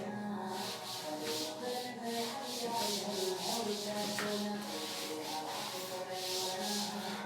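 Writing being rubbed off a board, a close, repeated scrubbing swish in a steady back-and-forth rhythm of about two strokes per second, heard alone without talk.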